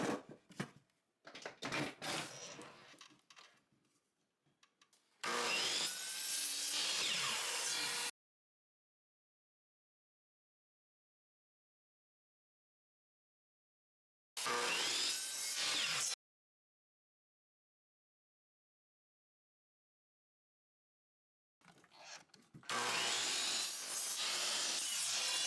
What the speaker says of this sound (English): Set your blade to 45 degrees, cut the 2 appropriate corners